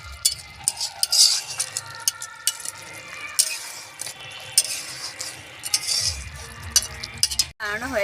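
Koi fish curry stirred in a pan with garam masala, a spoon scraping and clinking against the metal over a soft sizzle, close and busy, ending in a sharp clatter.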